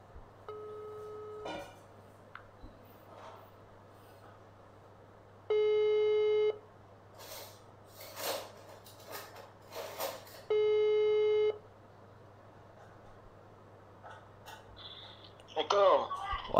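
Telephone ringback tone for a call not yet answered, two long steady tones repeating at a slow cadence over a low background hum, with brief clicks and handling noise between them.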